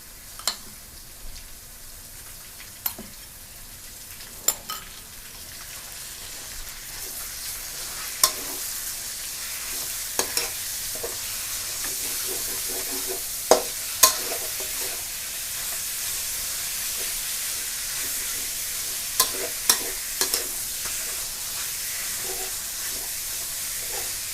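Minced pork, half a kilo, stir-fried with garlic in a hot pan, a steady loud sizzle with scattered sharp scrapes of the spatula, close up and without speech.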